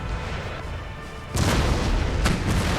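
Artillery firing round shot in Empire: Total War, Darthmod: a low background rumble, then a heavy boom about midway followed by a second sharp report, loud and close, with no talk.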